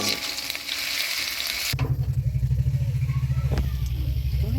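Ginger tempering spices hit hot oil and sizzle loudly, the sound jumping after a sharp change into a dense, pulsing fry close up.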